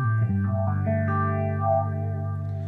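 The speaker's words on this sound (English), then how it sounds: "I got some of my phase stuff going on" An electric guitar played through an amp with a phase effect, sustained chords sweeping and swirling with a watery, chorus-like shimmer, loud and alone with no talking.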